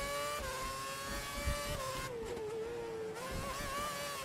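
A Formula One race car engine in the racing game F1 2011 holds a loud, steady high-pitched whine near top revs, its pitch dipping and climbing slightly as the car runs flat out.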